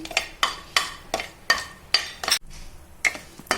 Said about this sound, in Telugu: లవంగం, యాలక్కాయ, చెక్క 3 కూడా మనం నేతిలో ఫ్రై చేసుకుంటున్నామండి.